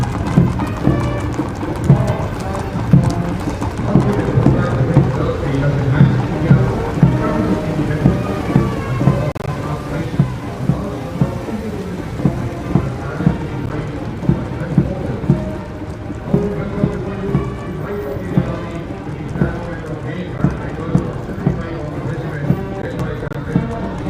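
Horse hooves clip-clop steadily on tarmac as mounted cavalry pass in India's Republic Day Parade 2023, a continuous rhythmic patter of many hooves over broad outdoor crowd and ambient noise.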